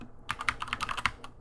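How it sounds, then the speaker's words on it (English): Fingers type on a computer keyboard in a quick irregular burst of sharp clicks that starts after a brief pause and lasts about a second, close and clear. "let's say I'm typing in my project,"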